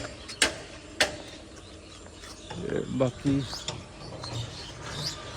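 Metal clanks and a ratcheting rattle as a rolling shop shutter is pushed open in the morning, with a voice speaking briefly and birds chirping faintly in the background.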